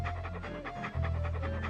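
Walt the dog pants rapidly and steadily in Monkey Island 2, a close, rhythmic panting over a low game music bed, growing slightly louder near the end.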